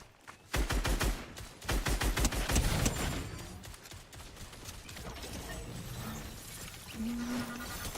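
Rapid video game gunfire crackles in a dense burst early on, then thins into scattered shots and background game noise with a short tonal blip near the end; no one speaks.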